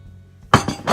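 A utensil clinks against a dish while stirring marinade over tilapia fish, giving a few quick, close scraping knocks in a brief moment.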